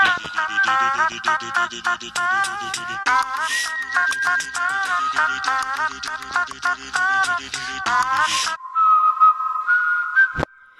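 A whistling character from the Incredibox music game carries a bright, wavering melody of whistled notes over a steady musical loop, followed near the end by a single long held whistle.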